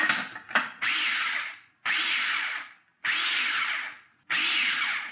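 Food processor chopping already-shredded carrots in a kitchen, four loud whirring bursts of about a second each separated by short pauses, preceded by a few quick clicks.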